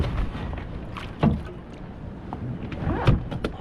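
A 16-foot Trak 2.0 touring kayak is paddled across open water, with soft splashing strokes and gentle water wash beneath steady wind buffeting the microphone.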